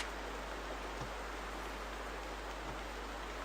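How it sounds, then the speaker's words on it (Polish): Steady, even rain hiss in the video game theHunter: Primal fills the whole stretch, a constant wash of falling drops with no talk over it. "Nie wiem, czy mnie w ogóle słyszycie przez ten pieprzony deszcz."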